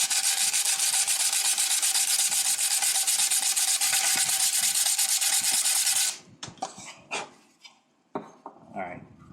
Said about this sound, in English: And then you just take your 60 grit right here. You can just sand it down real quick.